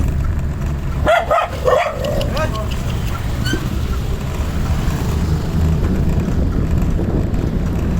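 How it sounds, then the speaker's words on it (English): Dogs bark a few times at a distance during an electric bicycle ride, brief yelps over steady wind and road rumble. "Dogs."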